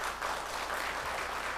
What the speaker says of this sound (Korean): 박수 한번 격려할까요?